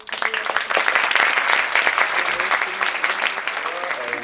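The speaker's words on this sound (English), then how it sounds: "I would like to invite all of you to applaud and encourage these 6 young people" An audience applauds debate participants at a youth debate on youth participation in decision making, with steady, dense clapping that stays close and loud throughout and some crowd noise mixed in.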